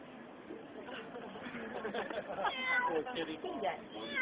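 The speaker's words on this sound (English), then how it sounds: "somebody meowed." A cat meows among a crowd at an outdoor Occupy protest gathering in Asheville, a few short cries heard faintly under people chattering nearby.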